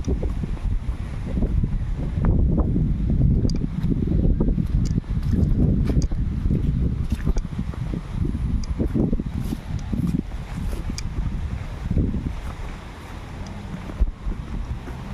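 Gusty wind roars and batters the microphone in loud low bursts, easing at times before surging again, with a faint hiss behind it.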